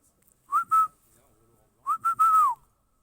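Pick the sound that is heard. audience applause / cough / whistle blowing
whistle blowing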